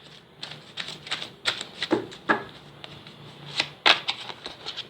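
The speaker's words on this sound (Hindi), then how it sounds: "सॉरी गाइस, फिर से शफल।" Tarot cards are shuffled in a series of soft, irregular papery riffles and snaps, close up and fairly quiet.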